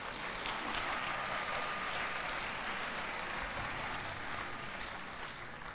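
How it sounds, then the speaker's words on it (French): Dense, steady audience clapping fills an award ceremony hall at a Benin music awards show, an even continuous roar of applause without pauses, fairly distant. "Applaudissez, applaudissez."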